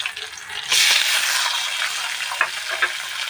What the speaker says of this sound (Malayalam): അപ്പോൾ ഇതിലോട്ട് കറിവേപ്പില ഇട്ട് കൊടുക്കുന്നുണ്ട്.